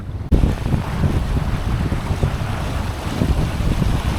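Strong wind buffets a sailboat's microphone on rough water, a dense continuous roar starting abruptly and staying loud, with waves and hull noise beneath it, no voices.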